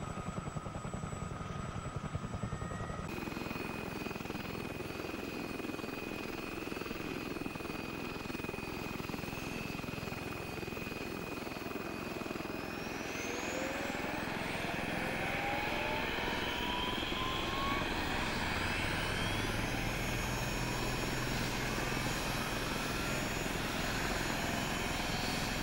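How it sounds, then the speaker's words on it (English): Twin turbine engines of a CH-47 Chinook helicopter in a flight simulator run loud and steady, a broad roar with whining tones that climb in pitch as the second engine spools up, continuing without pause for the whole stretch. "Okay, engine 1 is running, so let's start engine 2."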